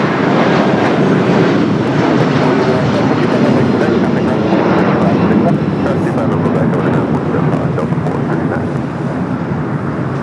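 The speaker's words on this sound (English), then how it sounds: "We do have a United 757 now rolling down 25 right." A United Boeing 757 rolls down runway 25 right at LAX, producing a loud, steady roar of jet engines with wind buffeting the microphone and voices talking over it.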